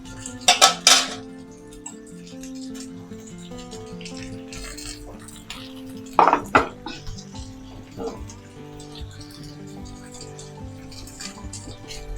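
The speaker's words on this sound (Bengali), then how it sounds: "এখন আমি আস্তে আস্তে ঢাকনা দিয়ে দিব" A lid goes onto a cooking pan of fish curry made with oil coral fish, giving sharp metallic clinks and clatters near the start, then a single clank around six seconds and a softer knock after, over a low kitchen hum.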